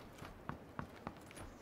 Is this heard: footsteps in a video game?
yes